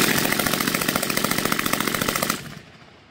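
An RPD machine gun fires one sustained, loud automatic burst at a rapid, even rate outdoors, then stops and leaves a short fading echo.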